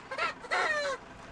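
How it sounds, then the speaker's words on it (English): A rooster crows once nearby, a short rising call followed by a longer drawn-out note, with quiet around it. "And the rooster."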